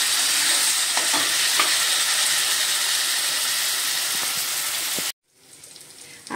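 Chopped eggplant for bharit being stirred in a hot pan: a steady, loud sizzle with scraping stir strokes for about five seconds, then a sudden near-silence as the sound cuts away, with faint hiss returning at the end.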